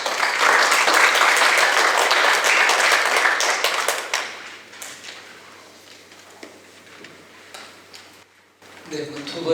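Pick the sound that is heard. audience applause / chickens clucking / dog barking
audience applause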